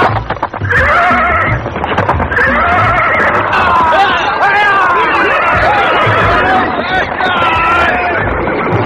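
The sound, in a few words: horse galloping and neighing, radio drama sound effect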